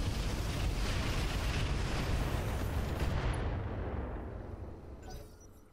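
Weapons salvo fired in the BattleTech game Roguetech, a dense roaring barrage of blasts that swells loud and then trails off into a fading rumble.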